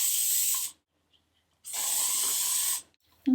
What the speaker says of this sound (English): we can apply some hairspray to make our wavy hair last longer.